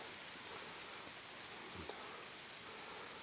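Steady rain falls at a forest apiary as a dense, even hiss with a faint thud or two, close and continuous and with no talk.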